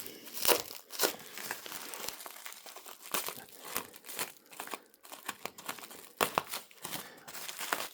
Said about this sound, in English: This is just parcel tape and bubble wrap.